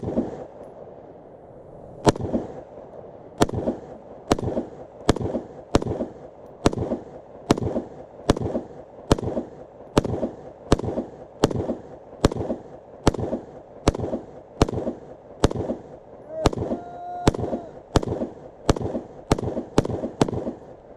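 Repeated shotgun blasts fired at targets at a rural camping spot, sharp loud reports spaced about one second apart in a steady rhythm, echoing slightly with no voices between shots.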